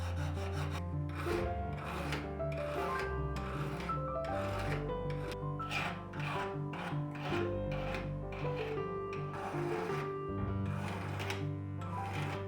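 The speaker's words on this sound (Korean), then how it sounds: "이제 톱질한 단면을 다듬어 줍니다." Rhythmic rasping strokes of a hand file on the sawn edge of a brass plate repeat steadily back and forth, close and continuous, with a faint tonal hum underneath.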